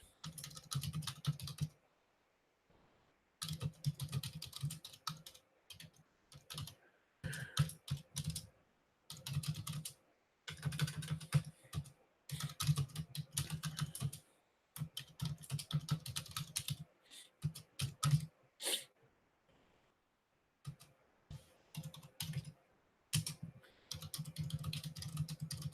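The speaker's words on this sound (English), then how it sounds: "I'm just typing something for my members." Close, fast typing on a computer keyboard comes in clattering bursts separated by short silent pauses, with no one speaking.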